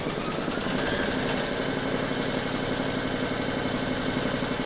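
An embroidery machine steadily stitches a placement outline in silver thread for a crazy patch mug rug, a continuous close mechanical whir with fine rapid needle ticking throughout, no voices.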